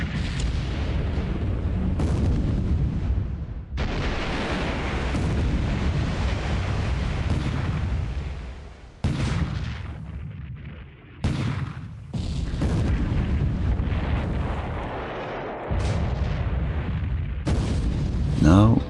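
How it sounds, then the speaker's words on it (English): Heavy booming naval gunfire in a video game rumbles almost continuously as the battleship Emperor of India takes destroyer fire, with deep blasts and crashes layered over one another and only a few brief lulls. "Emperor of India taking some destroyer gunfire"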